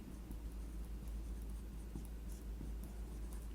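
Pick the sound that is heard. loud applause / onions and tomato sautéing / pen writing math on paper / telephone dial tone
pen writing math on paper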